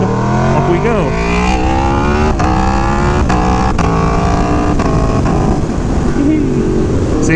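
An Aprilia Tuono V4 Factory motorcycle engine revs hard and steadily as the rider opens the throttle into a wheelie, loud and close throughout, with pitch sweeping up and down over continuous wind noise.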